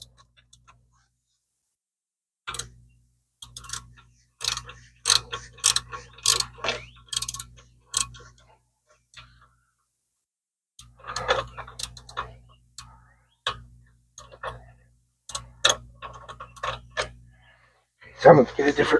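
Ratchet wrench clicking in short bursts while tightening brake caliper bolts on the front brakes of a 2003 Dodge Ram, with pauses between runs of rapid ticks and some quiet low hum underneath.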